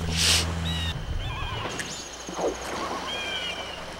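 A horse in The Legend of Zelda: Majora's Mask gives a short whinny near the start, followed by game ambience and a few chiming effects.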